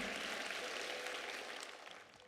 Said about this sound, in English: Give his heart a huge round of applause.